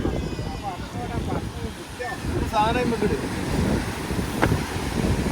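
Wind at the beach buffets the microphone with a steady low rumble, while voices talk nearby over it.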